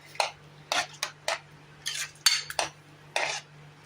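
A metal spoon scrapes and clinks against a pan while rava pongal is stirred, about nine short distinct strokes in an irregular rhythm, close and clear with a faint steady hum beneath.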